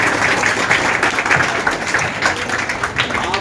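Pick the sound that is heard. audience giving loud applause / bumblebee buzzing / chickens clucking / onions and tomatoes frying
audience giving loud applause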